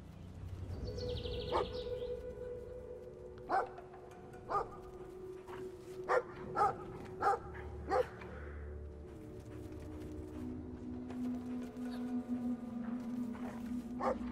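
Dog barking in the video game Brothers: A Tale of Two Sons, several sharp separate barks spaced out over a steady ambient game soundscape with faint birdsong, fairly close and loud.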